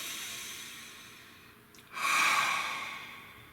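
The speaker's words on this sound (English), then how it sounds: "Take a nice deep breath." A single deep breath drawn in a quiet room, a soft airy inhale followed by a louder, longer exhale that swells and slowly fades, close and alone.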